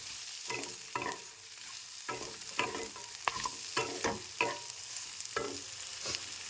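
Fried fish head and fried onions are stirred together in a pan, a spatula knocking and scraping in distinct strokes about once a second over a faint background sizzle, close and clear with no voices.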